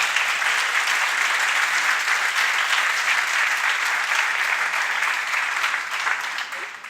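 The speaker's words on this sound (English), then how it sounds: "Give them a round of applause." A conference audience claps loudly and steadily, a dense wash of applause filling the room that fades slightly at the very end.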